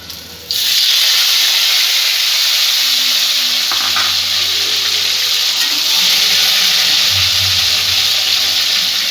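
Chopped tomato and green chilies fry in a pan for a rohu curry, giving a loud, steady sizzle that starts abruptly and runs throughout with faint stirring, no talk.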